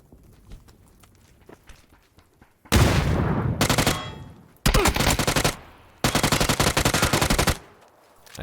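A cooked frag grenade explodes in the PUBG battle royale game, a loud broadband blast, followed by bursts of rapid gunfire in close, repeated volleys.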